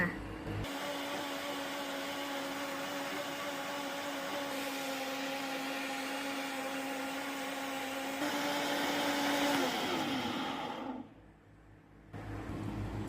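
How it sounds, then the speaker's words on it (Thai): A blender whirs through homemade mayonnaise with a loud, steady motor hum for about ten seconds, then cuts off into a brief quiet before background noise returns. "จากนั้นเราก็จะกดปั่นเลยจ้า"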